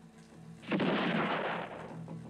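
A gunshot from a spaghetti western film duel fires as a single loud, broad blast that swells and rings out for about a second, then fades into a lingering echo.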